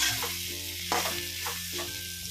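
Soybean chunks frying in oil in a pan over a high gas flame, a steady close sizzle with a few brief stirring scrapes.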